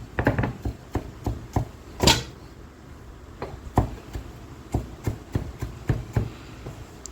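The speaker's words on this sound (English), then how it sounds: "I'm chopping some fresh parsley to sprinkle it on the chicken." A knife chops fresh parsley on a board with quick irregular taps, some in rapid bursts and one louder knock, fairly close and faint with no talking.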